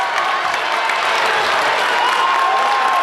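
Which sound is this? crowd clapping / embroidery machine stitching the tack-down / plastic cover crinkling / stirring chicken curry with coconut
crowd clapping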